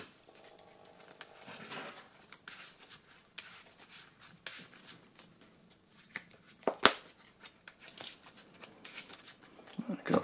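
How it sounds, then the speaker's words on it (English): Soft, quick papery riffling of Yu-Gi-Oh trading cards being shuffled and handled up close, with scattered taps and clicks, fairly quiet and without speech. "Good old shuffle."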